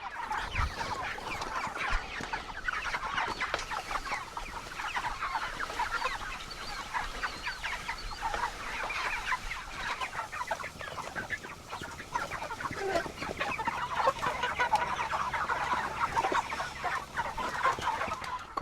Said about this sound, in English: So let's get on to the other chickens now.